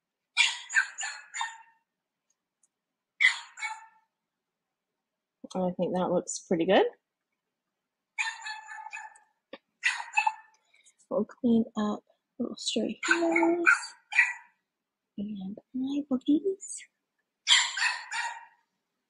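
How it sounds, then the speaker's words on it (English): Several dogs bark repeatedly in sharp, intermittent bursts at moderate distance in a home, interleaved with someone talking calmly nearby. "I don't know if y'all can hear my dogs barking like maniacs."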